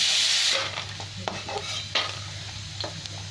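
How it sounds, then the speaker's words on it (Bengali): Fried lentil dumplings (bori) being lifted from hot oil, a loud bright sizzle at first that drops after half a second, then quieter crackle with scattered clinks and scrapes of a spoon against the pan. "বড়ি আমার ভাজা হয়ে গেছে, আর উঠে নিই।"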